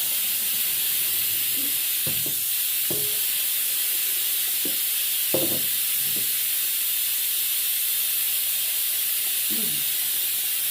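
A pressure cooker releasing steam in a home kitchen, a constant loud high hiss running throughout, with faint clinks and a few soft voice fragments beneath it.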